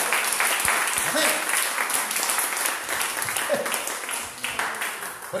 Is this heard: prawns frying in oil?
no